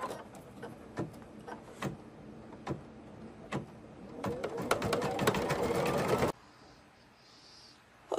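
Embroidery sewing machine starting to stitch out a design, scattered mechanical clicks building into a fast steady whirring run that cuts off abruptly, close and alone without talk.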